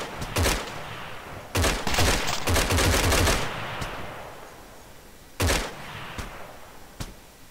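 Gunfire in the combat video game Arma 3 cracks out in loud bursts: a single shot, then a rapid volley of several rounds, a longer rolling fusillade, and later two more shots, each trailing off in a distant echo.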